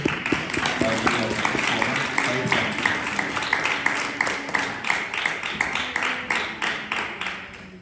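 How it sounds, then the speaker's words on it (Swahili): A church congregation at an Easter Day Pentecostal service claps in a steady, even rhythm, loud and sustained, with the beats growing sparser and more distinct toward the end. "naomba wote tumshangilie Mungu, tupige makofi"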